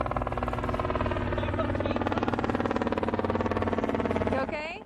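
A helicopter's rotor beats in a steady, loud, fast chop that holds for several seconds before fading near the end, with a brief higher whine at the close.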